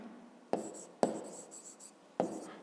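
A pen writes on paper up close, with several short strokes and taps separated by brief pauses, quiet and with no voices.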